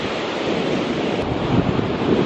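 Surf at Blueys Beach roars steadily and loudly with wind buffeting the microphone, a continuous wash of breaking waves with no voices.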